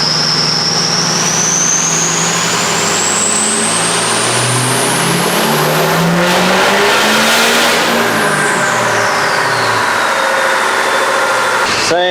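A 6.0L Powerstroke diesel truck engine running hard on a dyno with blown head gaskets, loud and close, revving up with a rising whine and then falling back as the revs drop, with no talk over it.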